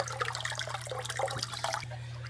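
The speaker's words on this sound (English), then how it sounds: "Pretty good water flow." Steady trickling, splashing water flowing continuously through a DIY aquarium canister filter, with a low constant pump hum beneath it, close by.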